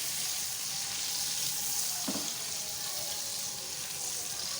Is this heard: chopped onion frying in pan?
yes